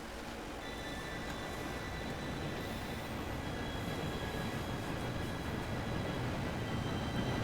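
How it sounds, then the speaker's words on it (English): A train approaches in Red Dead Redemption 2 as a continuous rolling rumble with a faint metallic whine on top, steady and moderately distant throughout, with no voices. "Train should be here any minute now"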